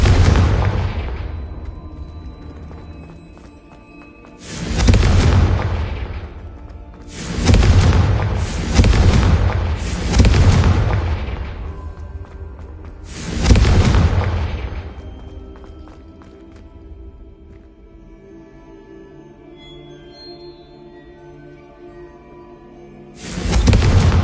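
Confringo blasting spell in Hogwarts Legacy, six or so loud booming explosions in separate bursts spaced a few seconds apart, each decaying into a rumbling tail with quieter game ambience between.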